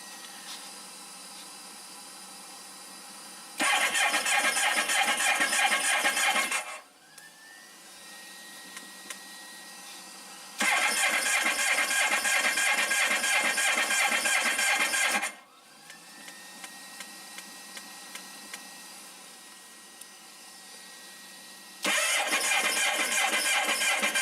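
The starter on a 1994 Honda ST1100 Pan European motorcycle, on its first start of the season, makes three loud, close cranking runs of about three to four seconds each, separated by quieter gaps.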